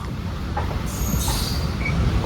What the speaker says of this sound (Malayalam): ഈ പോകുന്നത് നമ്മുടെ കാരക്കൽ എക്സ്പ്രസ് ആണോ?